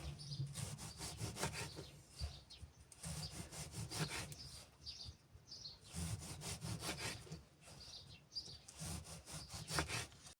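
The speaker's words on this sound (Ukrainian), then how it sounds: "беремо помідор і ріжемо тонесенько" A knife slicing a tomato into thin rings on a board for a cold appetizer, a fast rhythmic run of close, crisp sawing strokes in bursts, with no talking.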